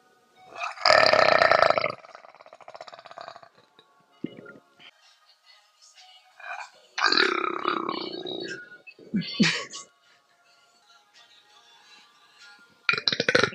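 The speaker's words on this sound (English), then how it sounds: "That got me burping. Now I can't stop." Repeated loud burps from a woman, several separate eructations spread across the stretch with quiet gaps between, a long deep one early and shorter bursts later, with faint clinks and brief talk.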